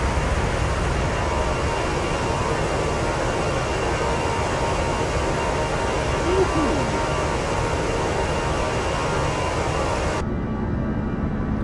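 Airbus A340 jet engines in a flight simulator roar steadily at takeoff climb on a mountain route from Skardu; the loud, even wash of noise persists throughout, and its upper hiss drops away near the end.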